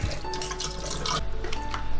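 Water is poured over dried tuna in a bowl to soak it, a close, continuous splashing trickle lasting about two seconds.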